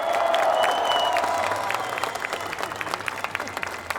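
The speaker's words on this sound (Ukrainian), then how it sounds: "Ваші оплески!" An outdoor crowd on Kyiv's Mykhailivska Square claps and cheers at a send-off for Ukraine's Euro 2016 football team, a loud swell of applause with a brief whistle-like tone, fading into a sparser patter of claps.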